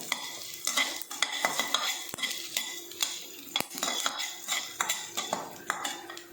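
Coriander seeds are sautéed in a pan, a metal spoon scraping and stirring in quick, regular strokes with frequent clinks over a soft sizzle, close up and with no talking.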